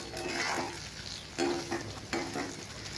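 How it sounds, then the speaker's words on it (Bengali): Paneer pieces frying in oil seasoned with salt and turmeric, a soft close sizzle with intermittent stirring scrapes and taps, fairly quiet and without talk. "এখন তেলের মধ্যে একটু নুন হলুদ দিয়ে ভাজা ভাজা করে নেব"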